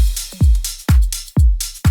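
A punchy electronic drum beat with deep booming kicks and bright hi-hat hits repeats in a steady rhythm, loud and alone.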